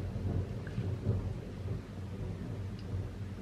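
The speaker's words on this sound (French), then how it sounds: "on a entendu le tonnerre" Thunder during a thunderstorm: a low, continuous rolling rumble that swells and eases over a steady hiss of rain, heard from indoors with no talking.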